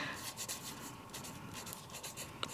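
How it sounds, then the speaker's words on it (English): A pen scratches steadily across a Diamond Press paper envelope, making a soft, continuous close-up scribble of writing with no talk over it. "I'm just gonna go ahead and write the Readly part of it."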